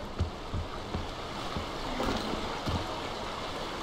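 River water flowing in the video game Far Cry Primal, a steady rushing wash with soft splashy pulses, continuous and moderately close with no voices.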